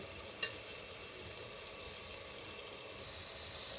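Washed parboiled rice, added to a pot with lentils for khichuri, cooks with a faint, steady hiss and gentle bubbling; one soft knock sounds near the start.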